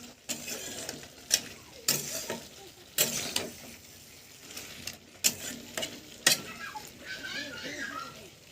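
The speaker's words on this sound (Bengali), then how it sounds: "এইভাবে নাড়ার ফলে মশলাগুলো মাংসের ভেতরে ভালোভাবে মিক্সড হয়।" A spoon stirs and scrapes spiced chicken curry in a pan, with repeated loud clattering strokes and a soft sizzle between them, while a voice talks now and then.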